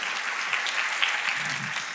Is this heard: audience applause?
yes